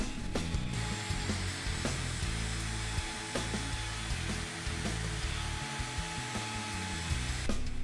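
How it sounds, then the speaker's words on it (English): A router guided by a jig cuts mortises into wooden stretchers with a constant, high-pitched whine that holds steady throughout, dipping briefly with each pass. "I use a router jig designed by Michael Fortune for this task."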